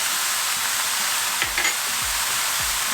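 Lamb keema mince cooking in a pan with cumin seeds and salt, a steady broadband frying hiss with a few soft scraping strokes of a spoon breaking up the meat.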